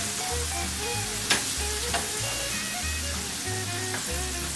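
Pork chops sizzle steadily in butter on a griddle, a dense continuous frying hiss with low bubbling pulses and a few sharp spatters, close and loud throughout with no talking.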